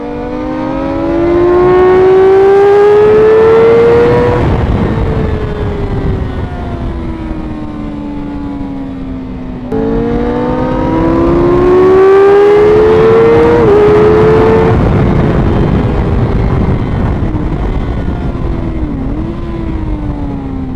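Two loud engine passes from a BMW, each climbing in pitch as it accelerates and then easing off as it moves away, the second following closely after the first, with no voices.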